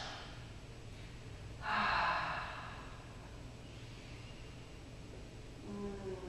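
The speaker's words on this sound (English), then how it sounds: "take some deep, long breaths" Slow, deep breathing during a seated yoga practice, with one long, loud breath standing out in a quiet room and a softer breath near the end.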